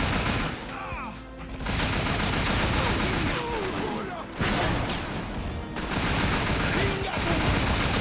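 Gunfire in the Scarface video game, sustained loud bursts of automatic shots that stop and start in several blocks, with crashes and game noise mixed in.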